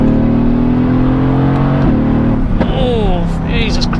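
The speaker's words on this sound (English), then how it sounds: "When you go into race mode, oh, now you're getting lots of, oh, that lovely pop and crackle" Mercedes-AMG GT S with a Black Series body kit, in race mode: a loud, steady exhaust drone with a throttle blip and brief crackling pops near the middle. A voice talks over the end.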